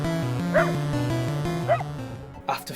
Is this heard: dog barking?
yes